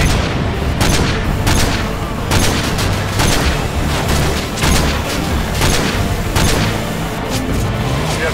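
Heavy gunfire and booming blasts in Call of Duty: Modern Warfare 2, in a gulag assault with snipers engaging. Loud, repeated sharp reports come at an irregular rhythm over a continuous roar of combat.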